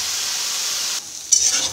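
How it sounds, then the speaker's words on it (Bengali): Eggplant (brinjal) slices sizzle steadily in hot oil, a constant hiss that thins out suddenly partway through before a brief stirring scrape and crackle return near the end. "বেগুনটা খুব ভালো করে ভেজে নেব।"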